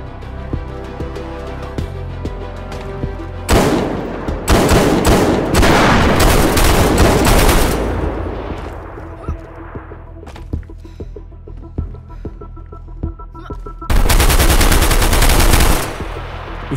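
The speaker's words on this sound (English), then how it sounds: "Where's he shooting from? What's he shooting at?" Gunfire from another player in the survival game DayZ comes as loud, rapid automatic bursts, one long volley followed by quieter scattered shots, then a second short burst near the end, with no talking.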